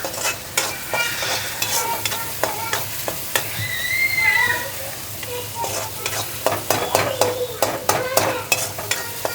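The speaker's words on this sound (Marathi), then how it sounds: "हे छान परतून झालंय." Brinjal for bharit being stirred and sautéed in a pan, a continuous sizzle broken by rhythmic scraping strokes of a spatula against the pan, close up, with a faint whistling tone partway through.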